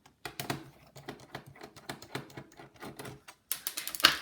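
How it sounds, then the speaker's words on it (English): Small metallic clicks and taps from a screwdriver working out the keyboard screws on a Dell Latitude E1545 laptop, close and irregular, ending in a brighter rattle. "So we can take out those screws"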